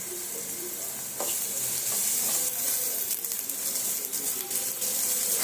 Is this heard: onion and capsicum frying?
yes